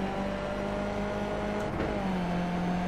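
Race car engines in iRacing, a steady droning whine with a faint pass, loud and constant with no talk.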